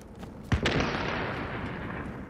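In the video game The Division, a sharp, deep boom bursts out and is followed quickly by a second thud, over a steady roaring rumble that lingers afterward.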